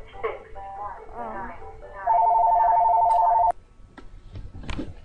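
A steady electronic telephone ring in a Roblox game sounds for about a second and a half, loud and even, following stretches of talk, with quieter speech and clicks after it.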